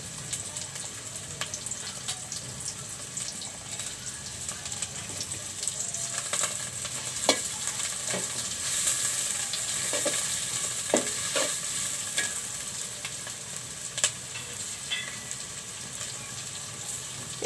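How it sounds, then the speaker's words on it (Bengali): Handmade dried fish, or shutki, frying in a pan: a constant, close sizzle with a few sharp stirring taps and scrapes scattered through. "এর মধ্যেই শুটকিগুলো দিয়ে একটু ভাজবো"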